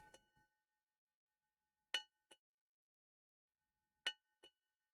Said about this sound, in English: If that monk keeps ringing that bell